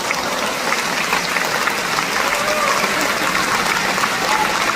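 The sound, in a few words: audience applause at a concert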